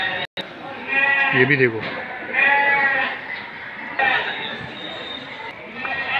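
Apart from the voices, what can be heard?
Sindhi goat bleating at a livestock market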